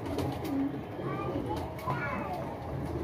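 Soft, low cooing of a young Teddy highflyer pigeon in short phrases over a steady busy background, with faint children's voices and chatter nearby.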